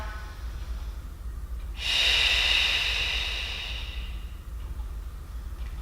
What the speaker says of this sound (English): Forceful exhale through the mouth.